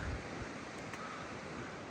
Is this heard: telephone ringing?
no